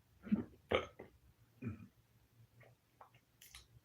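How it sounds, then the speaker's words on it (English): A person's hiccups come as a few quiet, abrupt vocal jolts spaced irregularly, with soft mouth sounds between them in a still room. "And I got the hiccups."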